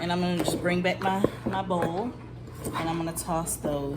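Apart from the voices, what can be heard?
No everyday noises stand out.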